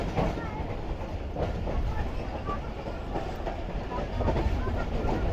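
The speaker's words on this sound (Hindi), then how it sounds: "पहाड़ के अंदर पहुंच चुकी है ट्रेन" The Rehman Baba Express rolls along mountain tracks, a steady rumble of carriage wheels with soft rhythmic clacks heard from inside the train, unbroken from start to finish.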